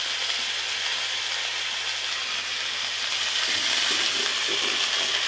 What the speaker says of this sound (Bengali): এখন মশলাগুলা না দিয়ে আগে পেঁয়াজগুলো ভাইজা নেই